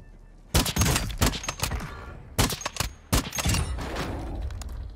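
Sniper rifle and other gunfire in a Warzone match, with sharp loud cracks in bursts and clusters of shots, several close together, separated by brief quieter gaps.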